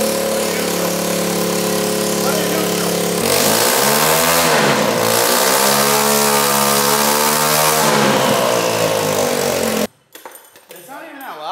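A Honda Civic fitted with a boosted moped engine and exhaust runs loud and close, holding a raspy idle, then revving up and wavering in pitch before abruptly cutting off, leaving quieter background sounds.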